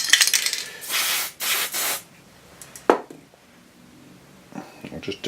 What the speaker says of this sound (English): Gonna put some PTF spray in there before I did that.